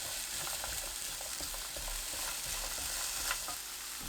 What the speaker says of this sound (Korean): 팬에 양파, 올리브유 1큰술 넣고 중불로 볶아주세요